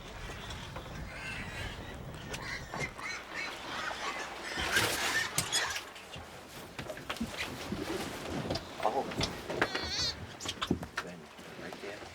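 Seabirds drawn to chum call and squawk repeatedly amid wind and water noise off Montauk, with people talking over them throughout.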